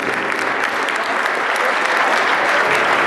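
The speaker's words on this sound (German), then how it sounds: "Mal ein Beifall an die Jungs." Crowd applause for youth B-junior football players at an indoor tournament, dense steady clapping from many hands filling the whole stretch, loud and close.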